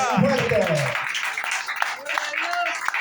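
A church congregation applauds loudly during an evening worship service, a dense wash of clapping with cheering voices mixed in and a preacher's voice speaking over it.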